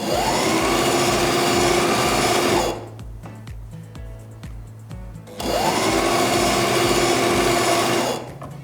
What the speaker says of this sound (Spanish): Una vez colocada la gomita, hacemos el siguiente paso, que es la misma cosa sería. Entonces cosemos.